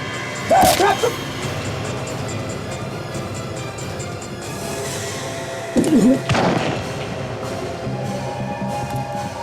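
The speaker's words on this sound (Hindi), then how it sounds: "गोली चलाओ" Two sharp gunshots crack about five seconds apart over a dense, steady background din.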